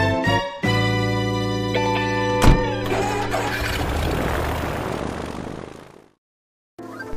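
Seaplane in the Animal Crossing video game flying to another island: a steady humming engine drone that thickens into a rushing noise, cuts to silence, then briefly resumes.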